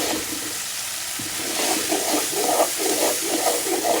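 Shrimp dropped into a hot pan for a pumpkin and shrimp curry, giving a steady broad sizzle with rhythmic stirring scrapes, close and fairly loud throughout.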